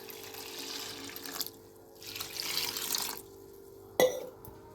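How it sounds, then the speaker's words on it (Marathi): Water runs and splashes into a cooking pot in a village kitchen while dal and greens are cooked. It comes in two uneven surges, with a sharp clink of metal near the end. "पाणी घालते याच्यात थोडं."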